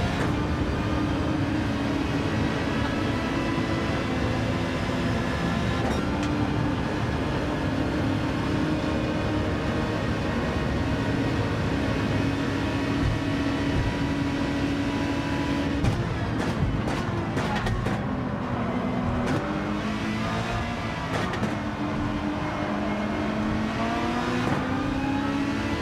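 Racing cars in Gran Turismo during an online lobby race, with a McLaren alongside: a loud, continuous engine drone that rises and falls with gear changes and revving, with other cars close by.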